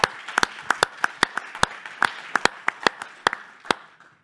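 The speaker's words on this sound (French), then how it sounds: "Applaudissements pour Damien Clerc, s'il vous plaît." Sparse applause at a civic presentation event in Vichy, France: a handful of distinct, close claps at an uneven rhythm over a soft background of further clapping, fading toward the end.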